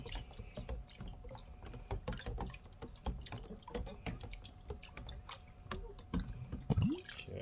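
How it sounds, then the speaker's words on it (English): A 20oz sublimation tumbler dunked and rubbed in water: continuous wet sloshing, dripping and squishing with scattered splashes close by, faint and with no talk. "You just dunk it right in the water, run your hand up and down it, and it'll come right off."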